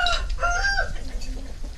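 Fighting roosters kept on a farm in Ben Tre, a short burst of crowing and clucking, moderately close, with a faint voice in the background.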